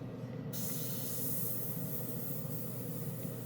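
A Mr. Hobby GSI Creos PS-771 airbrush sprays paint at high volume, giving a steady, continuous airy hiss close to the microphone that starts abruptly and holds evenly throughout.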